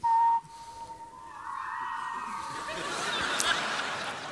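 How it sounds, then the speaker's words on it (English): A person whistles a single steady tone that slides higher and grows into a brighter, wavering whistle, with a hall ambience and faint audience stirring behind it. "So I whistle the tone."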